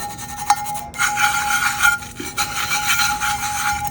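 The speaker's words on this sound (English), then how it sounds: "But holographics look amazing when you rub it down and burnish it in." Steady close-up rubbing and squeaky burnishing as holographic vinyl is pressed down onto a tumbler, continuous friction strokes with small bumps and no talking.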